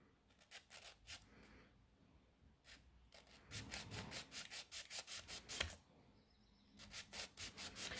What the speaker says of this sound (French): maintenant je vais venir affiner ici et limer ici